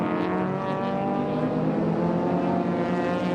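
Race car engine at Sydney Motorsport Park holding a steady, loud harmonic drone as it powers down the straight, with no talk over it.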